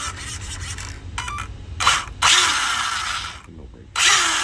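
A Spektrum-equipped RC car powers up once its e-brake is unplugged, giving off bursts of whirring, ratcheting electronic and motor noise with short gaps, loud and close, and no talking.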